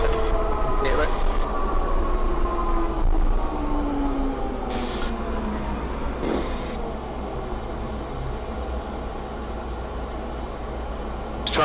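Rotor of an ex-British Army Gazelle helicopter winding down with the rotor brake applied around 170 RPM, a loud steady turbine and rotor drone with descending whining tones and a few brief clicks, while a person talks in the cockpit.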